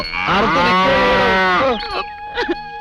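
A cow lets out a long, loud, drawn-out moo lasting nearly two seconds, followed by a couple of shorter, quieter lowing calls close by.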